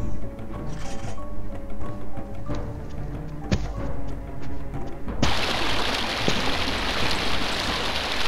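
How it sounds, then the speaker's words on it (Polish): Steady rushing of flowing water in a fantasy role-playing video game, a continuous hiss that swells louder partway through, with faint game sounds underneath and no talking. "Słyszę jakąś wodę, więc pewnie będzie mnie tutaj przegłuszać."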